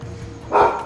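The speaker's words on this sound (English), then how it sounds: "I must apologize for the dog." A single short dog bark, fairly close, rising out of a quiet room background.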